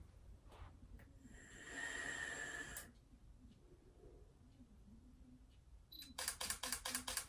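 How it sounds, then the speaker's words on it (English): A rapid burst of camera shutter clicks fires near the end after a quiet stretch of soft background noise and a brief hiss. "I do the fast shutter like that just because of the vape."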